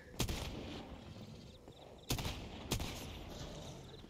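A shotgun fires in the survival game Once Human, with three loud blasts spaced over a few seconds above a dense, constant game soundscape; no speech.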